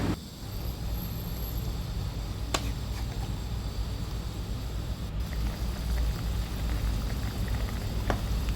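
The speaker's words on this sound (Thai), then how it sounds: "เราเติมน้ำลงไปนะคะ เพื่อจะเคี่ยวให้หมูนุ่มลงอีกหน่อยนะคะ" Pork pieces simmering in added water for a Thai panang curry, giving a steady close bubbling and gentle boiling texture throughout, with a couple of sharp clicks and no talking.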